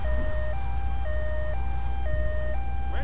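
Ambulance siren in the video game GTA 3 Definitive Edition during a paramedic mission, a two-tone wail alternating steadily about every half second over a low rumbling engine.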